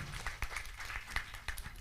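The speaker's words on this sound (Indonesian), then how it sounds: "boleh kita berikan tepuk tangan yang paling meriah Bapak Ibu" An audience at a talk show event giving applause, faint and distant, heard as a scattered patter of claps with a few sharper hits standing out over a low room murmur.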